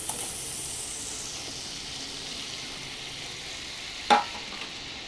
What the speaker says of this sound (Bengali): দিয়ে আমি নাড়াচাড়া করে নেব